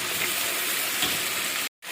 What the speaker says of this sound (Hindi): और गोश्त को हम अच्छे तरीके से भून लेते हैं।